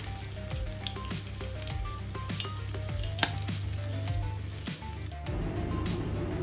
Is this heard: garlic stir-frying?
yes